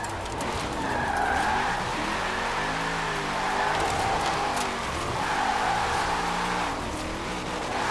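Sustained tire skidding and engine drone from a car drifting and fishtailing through a tight road in Forza Horizon 4, a continuous squealing slide that swells and eases in waves, steady and fairly loud.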